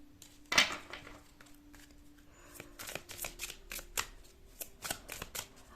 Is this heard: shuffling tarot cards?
yes